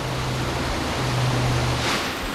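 A strong rainwater stream at Matheran rushes past after the rain has stopped, producing a loud, continuous broadband roar of flowing water close by, steady throughout with a low hum underneath.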